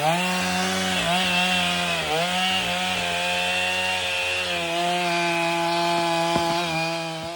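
Chainsaw cutting through a tree trunk, the engine howling steadily at close range with shifting pitch as the wood strains, and a few sharp cracks of splitting timber near the end.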